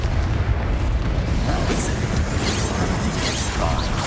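Confringo fire spell exploding in the Hogwarts Legacy video game, a dense, steady roar of blasts and crackling bursts that fills the whole moment without a pause.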